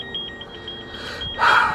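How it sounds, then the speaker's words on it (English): A thin electronic beep repeats in a steady, quick pulse, faint and distant, under background noise that swells near the end. "I don't know why that building is beeping"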